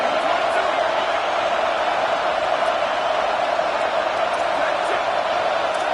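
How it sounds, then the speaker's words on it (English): A football stadium crowd roars for its defense as a steady, dense wall of cheering that holds loud and unbroken throughout, with faint shouts and whoops rising out of the mass. "Listen to this crowd just shaking the girders of this place"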